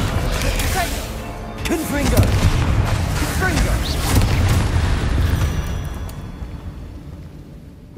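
Confringo fire spells blast repeatedly in a Hogwarts Legacy fight, with loud booming explosions rolling one into another over dense rumbling combat noise, then slowly fading out.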